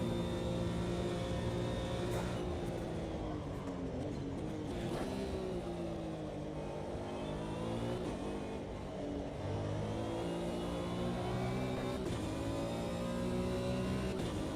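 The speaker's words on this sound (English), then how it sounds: "I can hear another car around me somewhere." A video game race car engine drones and revs steadily throughout, its pitch rising and falling as it accelerates, loud and continuous with no voices.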